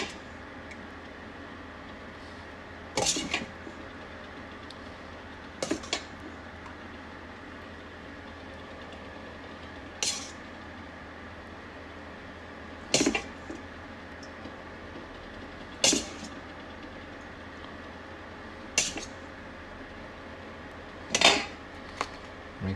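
A spoon scrapes and knocks against the pot of a Ninja cooker while chicken biryani is stirred, with about eight spaced metallic clinks over a steady low hum.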